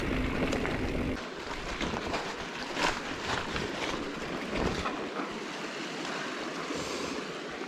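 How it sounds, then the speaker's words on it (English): A cyclist wades across a small river on a bikepacking trip, with water splashing and sloshing close by, plus gusty wind noise and moving water throughout. "My first water crossing."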